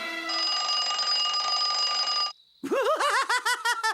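A loud, continuous mechanical alarm clock bell rings steadily for about two seconds, then stops, followed by high, sing-song vocal sounds in a bouncing rhythm, from a children's cartoon.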